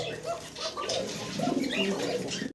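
Pigeons cooing close by in a series of soft, throaty, repeated coos, with faint background murmur beneath the birds.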